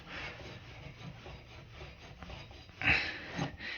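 Steel wool rubbed back and forth over copper heating pipes to clean them before a gas boiler swap, a continuous close scratchy scrubbing with a louder stroke near the end.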